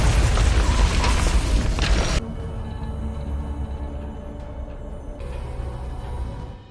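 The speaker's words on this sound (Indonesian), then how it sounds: "Tepat pas pintu mau didobrak, tiba-tiba terjadi sebuah ledakan." A loud, rumbling blast that roars for about two seconds, then drops off into a lingering lower rumble and crackle that fades out.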